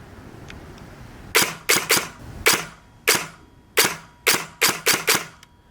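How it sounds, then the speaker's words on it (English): A Systema PTW airsoft rifle with custom Tackleberry electronics and motor, running on a 20C LiPo battery, fires a series of sharp single snapping shots at irregular intervals, loud and close, with no talk. "Next up we have Systema PTW, which is on a 20C LiPo, tackleberry custom electronics and motor."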